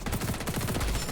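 Rapid automatic fire from an MP7 submachine gun in the shooter game XDefiant, a dense, loud stream of close shots in quick rhythmic bursts.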